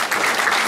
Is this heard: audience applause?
yes